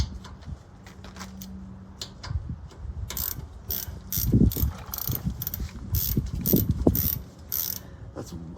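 Ratchet wrench clicking while working on the front suspension of a 2004 Dodge Ram during lower ball joint, shock and tie rod replacement; rapid close ratcheting bursts with mechanical clatter, strongest in the second half.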